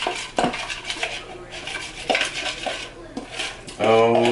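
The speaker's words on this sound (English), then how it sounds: "Stir that together." Carne asada mixture stirred together in a pan, a utensil clinking and scraping against the cookware in a few separate strokes, close and fairly loud, ending in a louder burst of scraping.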